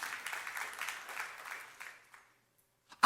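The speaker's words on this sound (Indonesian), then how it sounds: "Yang setuju tepuk tangan yang meriah untuk kemuliaan Tuhan." Sustained applause from a church congregation during an Indonesian sermon, dense clapping that gradually thins and fades out after about two seconds, followed by silence and a brief loud burst at the very end.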